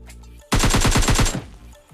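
Close, rapid burst of automatic gunfire in PUBG Mobile Lite finishing off a downed enemy, about a dozen evenly spaced shots over roughly one second, loud and with no talk.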